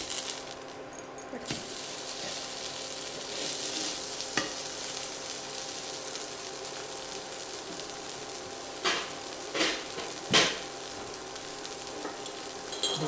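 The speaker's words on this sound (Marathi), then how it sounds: "वरून तेल घालणार आहोत आणि हे थालीपीठ दोन्ही बाजूनी अगदी व्यवस्थित तांबूस रंगावर आपल्याला भाजून घ्यायचे." Sweet potato sabudana thalipeeth fries in oil on a pan with a steady crackling sizzle, broken by several clinks and scrapes of a utensil against the pan.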